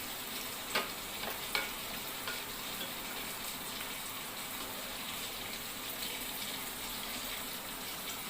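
Whole garam masala and dried red chillies frying in hot oil give a steady, close sizzle with soft bubbling, a couple of sharp spits or stirs near the start, and no voices throughout.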